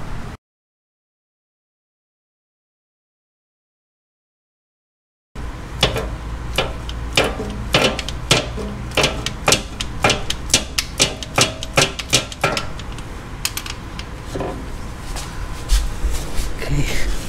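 Ratcheting socket wrench on a swivel working engine mount nuts on an Audi S4 B8.5, a dense run of sharp metallic clicks and knocks close by after a stretch of silence, continuing steadily to the end.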